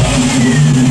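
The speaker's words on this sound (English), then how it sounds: "Rev the engine a little bit" A Jeep engine revs up loud and close, a steady mid-low drone holding a raised speed through the whole second, with no talk over it.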